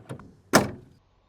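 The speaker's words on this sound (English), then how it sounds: "Now I'll go around to the back and pop the doors open" The back doors of a 1965 GMC Handi-Van camper are opened: a short click, then one sharp metallic clunk close by, followed by silence.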